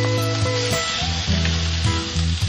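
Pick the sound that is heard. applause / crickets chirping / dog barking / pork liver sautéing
pork liver sautéing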